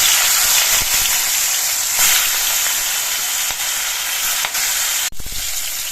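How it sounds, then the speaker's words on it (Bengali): Pieces of silver carp fry in hot mustard oil with a loud, dense, continuous sizzle, broken by a few brief pops and a sharp knock near the end. "তেলটা গরম হয়ে গেছে এবার তেলের মধ্যে দিয়ে মাছগুলো ভেজে নিচ্ছি"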